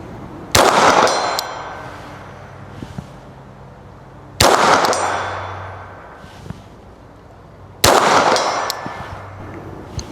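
Three sharp .22 pistol reports from a Ruger Mark IV 22/45 fired at a 12-inch steel plate 100 yards out, each a loud close crack with a ringing decay, spaced about four seconds apart.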